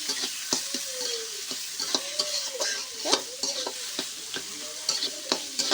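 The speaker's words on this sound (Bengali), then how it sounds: "আমি 4টে শুকনো ঝালও ভাজা করে দিয়ে দিচ্ছি এর ভিতরে।" Four dried chillies fry along with ghatkol greens in a pan, a soft steady sizzle punctuated by rapid repeated clacks and scrapes of a stirring spoon, close and fairly quiet, no voices.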